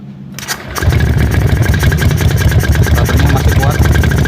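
A bore-up 180cc Honda Vario scooter engine cranks briefly and catches, then settles into a loud, steady, throbbing idle close by.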